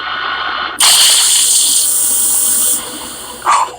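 A loud rushing hiss of water or gas bursts out of a flush in a Fallout 3 vault, holds for about two seconds, eases off, then a brief second spurt follows, over a quiet low hum.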